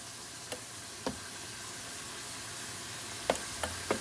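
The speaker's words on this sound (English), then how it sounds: "So this is simmering and the wine is reducing" Garlic simmering in a butter and wine sauce over medium heat, a soft continuous sizzle broken by a few light ticks and pops, with no talking.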